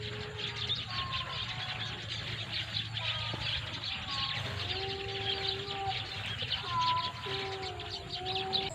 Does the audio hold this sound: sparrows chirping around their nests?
yes